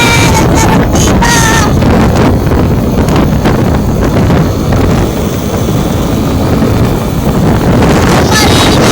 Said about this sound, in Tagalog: Kung maririnig nyo yung lakas ng hangin